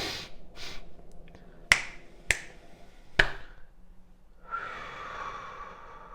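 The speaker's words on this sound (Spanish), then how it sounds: "hacemos 2 chasquidos de dedos, un aplauso y soltamos" Three sharp, close finger snaps ring out in a quiet room during a guided relaxation exercise, spaced about a second apart, followed by a soft slow exhale.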